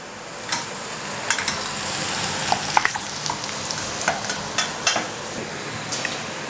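Onion fries in a pan with a steady close sizzle, punctuated by intermittent scraping and clinking as it is stirred.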